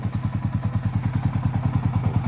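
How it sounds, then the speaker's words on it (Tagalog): A Yamaha Sniper 150 motorcycle engine idles close by, a loud, even, rapid chugging pulse that holds steady throughout with no talking. "saka lang siya nag-open yung mga ilaw nung umandar na yung motor"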